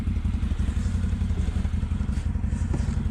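A CF Moto 800 XC four-wheeler idles close by, a steady low rumble with a loose mechanical clatter and a few thumps running through it.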